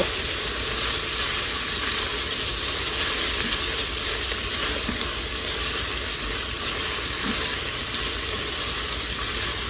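Shallots sauté in a pressure cooker pot, giving a steady, close, loud sizzle and fry that holds even and unbroken throughout, with no voices.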